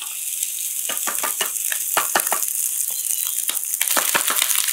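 Onions and brown rice sizzle steadily in hot oil, with a bright continuous hiss broken by frequent crackles and pops, close and fairly loud throughout.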